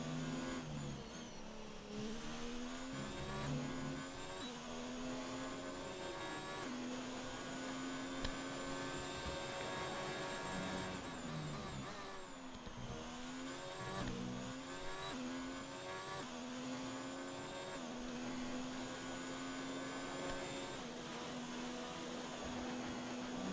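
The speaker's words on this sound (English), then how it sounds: "So let's ride on board here with Lit Romney." On-board race car engine on an out lap, revving loud and close with repeated upshifts and downshifts, rising and falling pitch, and steady high-speed wind and road roar throughout.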